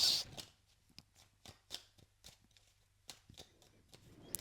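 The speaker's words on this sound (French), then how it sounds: "je vais battre les cartes" Tarot cards are shuffled by hand in quick, close riffles and taps, a rhythmic series of soft slaps in a quiet room.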